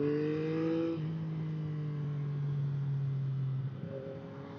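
A 2025 Yamaha MT-09 SP naked motorcycle engine while riding, a steady droning hum that holds its pitch, then shifts slightly near the end, with wind rushing under it.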